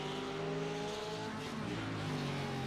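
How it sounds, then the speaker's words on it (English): GT race cars in a sprint series sim racing video game roar steadily with engines held at high revs, several layered engine tones shifting as they accelerate and downshift, loud and continuous throughout. "I like the sound of cars."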